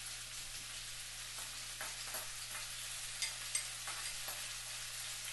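Garlic frying for a stir fry gives a steady, broad sizzle at close range, with a few faint stirring clicks and scrapes and no voices.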